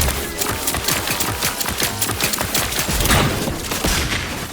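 Rapid gunfire in the video game Outer Worlds 2 rattles in loud, dense bursts of sharp shots, with scattered game sounds mixed in.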